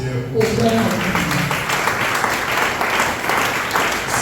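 A church congregation bursts into sustained, loud applause and clapping that fills the room, with a few voices rising briefly at the start before the dense crowd clapping carries on steadily throughout.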